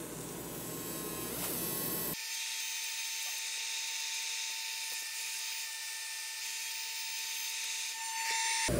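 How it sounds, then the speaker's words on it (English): A fiber laser engraver works on a customer job in a workshop, giving a steady high-pitched whine and hum with a faint crackle. The sound starts abruptly after a noisy opening and runs continuously in the background. "that sound you're hearing in the background is the fiber laser doing a customer project"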